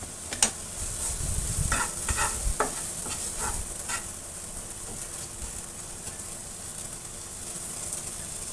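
Spice masala frying in a pan on a medium-low flame, a steady soft sizzle with a few stirring scrapes near the start, no talking.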